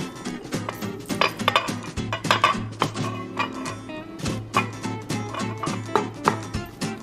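Zucchini is stirred into a double chocolate bread batter in a bowl, with repeated close clinks and scrapes of a utensil against the bowl in an uneven rhythm and no talking.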